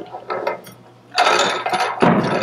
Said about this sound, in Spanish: El siguiente paso es primero moler la semilla o la pepita del chile.